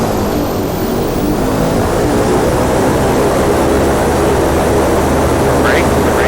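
Airliner thrust reversers roaring on landing in a flight simulator, a dense, loud, unbroken rumble that stays steady throughout.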